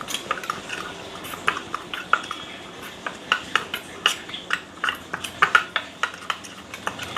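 Stirring a turmeric and raw milk mixture in a bowl, with a spoon tapping and scraping the bowl in a steady series of clinks close by, and no talking.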